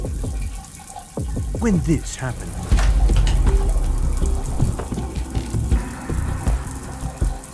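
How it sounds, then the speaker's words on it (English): Shower water runs in a home bathroom with a steady hissing spray that rises and falls, while a narrator speaks over it. "was taking a shower"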